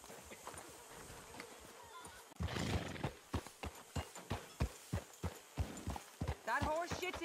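Hooves clop in a steady rhythm on hard ground, with a horse whinnying near the end.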